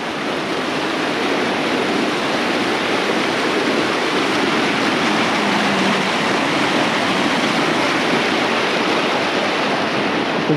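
Floodwater from Vermont's December 2023 flood pours out of a 24-inch culvert, sheeting off the ditch into a swamp: a loud, steady, broadband rush that continues unbroken for the whole stretch, with no voices.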